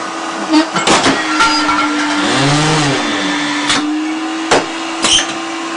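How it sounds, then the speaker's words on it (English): A vacuum seeder on an organic farm runs with a steady whirring hum and a rising-then-falling whine, while a person talks over it and intermittent clicks and knocks sound. "To our vacuum seeder, which I'll demonstrate."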